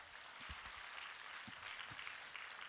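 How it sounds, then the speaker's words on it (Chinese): An indoor audience at a Malaysian company presentation breaks into applause, a faint, steady patter of many hands clapping at a distance with a few low thumps near the microphone. "掌声鼓励一下"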